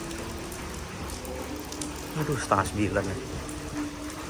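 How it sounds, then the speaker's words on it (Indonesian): Rain falls in a steady, even hiss that fills the background, while people talk over it nearby. "Mana hujan lagi kan."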